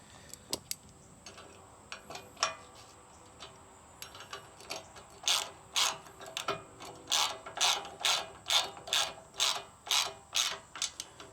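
Ratchet wrench snugging rear bumper bolts on a third-generation Toyota Tacoma, a few scattered clicks at first, then a steady run of close, crisp ratcheting strokes in even rhythm.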